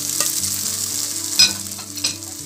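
Strips of roasted chile rajas hit a hot pan of potato and onion: a steady close sizzle with a couple of sharp clatters as they drop in and are stirred, over a faint low musical hum.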